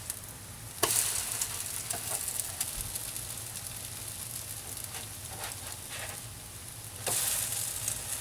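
French toast frying in a pan on medium heat gives a steady, soft sizzle that runs throughout, swelling briefly at the start and again near the end when a slice is flipped.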